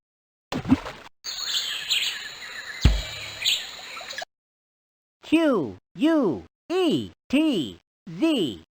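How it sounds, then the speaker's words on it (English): Quetzal calls in the jungle exploration game Let's Explore the Jungle: five clear, evenly spaced whistled notes, each swooping up then down, following a brief burst of other noise and a pause. "Quetzal. These just might be the most beautiful birds in the world."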